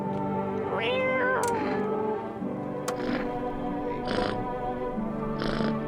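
A cat in a video game meows several times, with rising and falling calls standing out clearly against a steady background drone, with a few sharp clicks between them.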